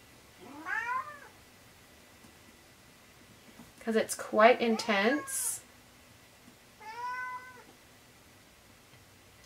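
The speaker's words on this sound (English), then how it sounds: "I've got mine meowing at my feet" A pet cat meows at close range near a painter's feet: one drawn-out meow, then a cluster of several quick overlapping meows, then another single meow, with a person speaking briefly in between.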